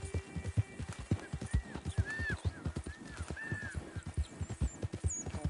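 Horse hooves clip-clop steadily at a walking pace in Red Dead Redemption 2, a near, even rhythm of dull thuds with occasional faint whinny-like tones and soft background ambience.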